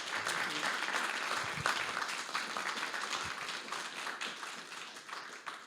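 Audience applause follows a fireside chat at a Prague event, a dense, sustained clapping that stays loud across the whole stretch and fades slightly toward the end.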